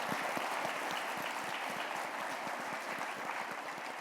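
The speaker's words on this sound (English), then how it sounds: "I'd like to give them a round of applause" An audience applauds a research team at a professional presentation, steady clapping from a sizable group that continues evenly throughout, moderately distant with a roomy sound.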